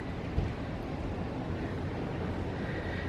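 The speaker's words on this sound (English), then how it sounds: "And it's super windy." Strong wind and slanted rain outside make a steady, broad rushing noise, constant and moderately loud with no voices.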